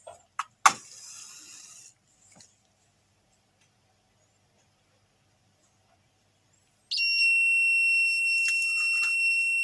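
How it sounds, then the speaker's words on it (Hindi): A DIY smoke and LPG gas leakage detector buzzer sounds with a steady high-pitched electronic tone for several seconds, preceded by a few sharp clicks and handling noises before it starts. "जैसे ही ये स्मोक को सेंस करेगा ये बज़र क्रिएट करेगा"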